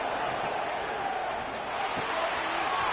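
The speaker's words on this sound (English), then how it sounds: "this crowd is fired up. Listen to this noise here" Stadium crowd in the College Football 26 video game gives off a steady, dense roar that holds at a constant level for the whole stretch, with no clear individual voices breaking through.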